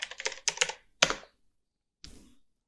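Several quick bursts of keystrokes on a computer keyboard, clustered in a short clatter, then a single sharp tap and a last brief flurry after a pause; close and clear with no voices.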